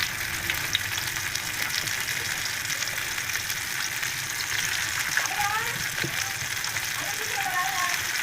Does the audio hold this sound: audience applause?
no